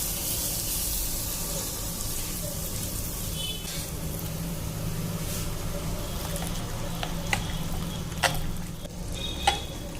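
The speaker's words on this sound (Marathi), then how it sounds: "आता 1 चमचाभर गरम तेल आपण ह्या सोड्यावर घालून घ्यायचं आहे." A spoonful of hot oil poured onto baking soda for methi bhaji batter gives a steady, faint sizzle all the way through, with a few small clicks near the end and no voices.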